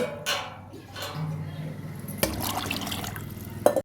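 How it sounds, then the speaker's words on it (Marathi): Water pours and trickles into a container of sago set to soak, with a few clinks of glass or metal and a voice speaking briefly in between. "आता त्याच्या तीनपट पाणी घालून रात्रभर भिजत ठेवायचं"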